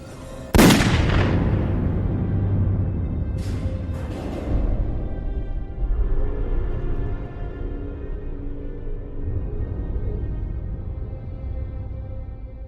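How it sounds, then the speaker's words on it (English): A single sharp gunshot from the 2003 film The Room cracks out loud and close near the start, followed by a lingering low rumble and a few faint later thumps as the scene's ambience continues. "They must have heard the gunshot."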